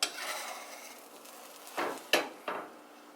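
Scrambled eggs pushed around a cast iron skillet with a utensil, giving a soft continuous sizzle and a few sharper scraping clatters near the end, close and fairly quiet with no talking.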